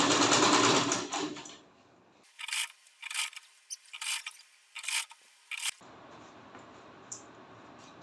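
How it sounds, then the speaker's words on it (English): A sewing machine stitches fabric for a reversible bucket hat, several short whirring runs of the needle separated by pauses, with rustling of cloth being handled before and after. "Sew it round this circle with 1/2 inches sewing allowance"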